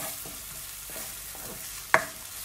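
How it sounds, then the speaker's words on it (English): Onions fry in hot oil for curry goat, giving a steady, close sizzle with soft stirring scrapes and one sharp clink of a utensil partway through. No one speaks. "now I'm going in with my onions. You want to fry your onions for about a minute"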